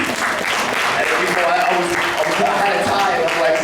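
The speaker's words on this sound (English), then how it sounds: "So you guys can clap to that." An audience at a talk breaks into steady, close applause that fills the whole moment, with a voice faintly underneath.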